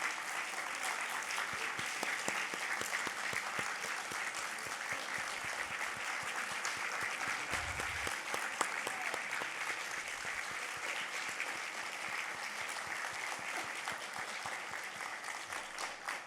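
An audience applauds steadily at the close of an award ceremony, a dense, even clatter of many hands clapping that lasts throughout at constant strength.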